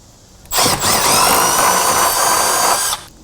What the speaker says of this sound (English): Using a 5/16 drill bit, we can drill through the top layer of this valance.